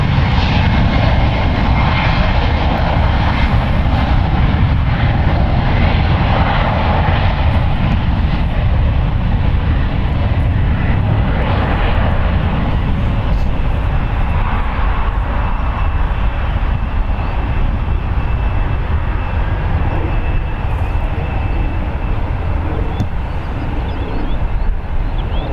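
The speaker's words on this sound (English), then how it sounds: "Departing is United Airlines Flight 2051 going to Vancouver, Canada. It's a Boeing 737 MAX 9," A United Airlines Boeing 737 MAX 9 departs San Francisco International Airport, its jet engines producing a loud, sustained broadband roar that holds steady and gradually thins toward the end.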